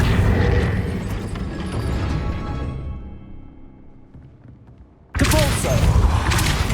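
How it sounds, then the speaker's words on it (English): A heavy gate mechanism grinding and rumbling as it raises in Hogwarts Legacy, loud at first, fading to a low clatter, then a sudden loud burst near the end. "That looks as if it might raise the gate."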